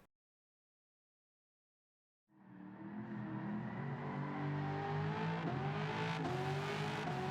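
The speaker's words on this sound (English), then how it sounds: "Let's go drifting at Suzuka." In Gran Turismo 7, a 1989 Chevrolet Corvette ZR-1 (C4) being drifted at Suzuka starts after two seconds of silence, its engine revving loudly and steadily with rising pitch and a hint of tire squeal.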